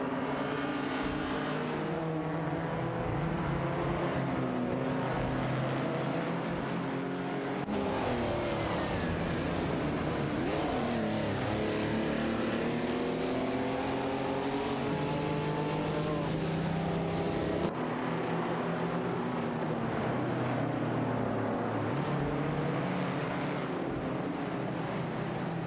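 Simulated race car engines roar continuously in a racing game, a Ford Mustang Boss 302 battling a Maserati 3500 GT for position, the loud whine rising and falling with gear changes and overlapping cars, no talk.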